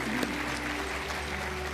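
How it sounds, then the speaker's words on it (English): Crowd at an awards gala dinner breaking into steady applause, dense continuous clapping from many hands filling the room with no pauses. "Can we have a round of applause then?"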